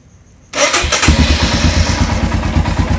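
A motorcycle cold-starts close by after a moment of quiet, catching at once and settling into a steady, loud, rhythmically pulsing idle with no talking.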